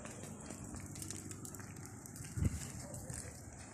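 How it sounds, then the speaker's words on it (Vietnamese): An open fire burns outdoors to singe a duck for Jarai-style grilled duck, a faint steady crackle and rush with one brief louder pop near the middle. "Ồ, lửa cháy to quá."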